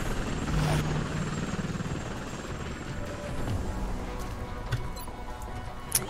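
A helicopter in the video game XCOM Enemy Within gives a steady, close rotor thrum with a rapid chopping beat, joined by scattered faint ticking game sounds and a few soft clicks.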